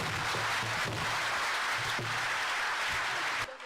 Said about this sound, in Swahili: Makofi tafadhalini.